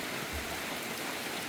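Rain pours down outdoors where people are working, a steady, dense hiss of drops hitting surfaces, fairly faint and with no talk over it.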